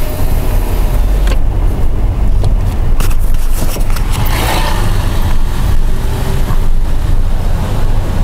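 Honda HR-V SE rolling slowly over paving blocks with a window open, a loud, continuous low rumble of tires on the block surface with a steady outside wash of noise and no talk.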